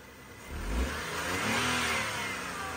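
A Nissan Almera engine revs up twice, rising from idle to a strong swell and then holding a sustained mid-pitched roar, close and loud with no speech.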